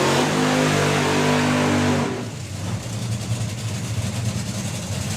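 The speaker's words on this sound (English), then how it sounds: "I just get goosebumps every time I hear a fuel car fire up." A nitro-fuelled drag racing car at an FIA/FIM main event erupts in a loud, dense roar for about two seconds, then drops to a rough, lower rumbling idle.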